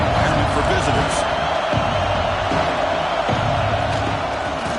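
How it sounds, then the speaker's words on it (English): A big stadium crowd roaring early in a Texas vs Tennessee college football game: a dense, steady wall of loud crowd noise, with a commentator talking over it. "Listen to the crowd energy here in the early going."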